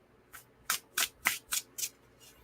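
Tarot cards are shuffled in six quick, crisp riffling bursts at an even rhythm, close and fairly soft, with no talking.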